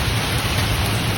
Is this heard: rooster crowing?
no